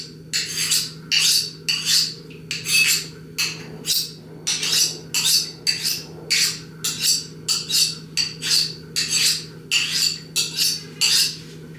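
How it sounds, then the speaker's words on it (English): Small paring knife drawn over a sharpener in a home kitchen, a rapid series of about twenty bright rasping strokes in steady back-and-forth rhythm, close and loud against a faint background hum. "I'm gonna try to sharpen it."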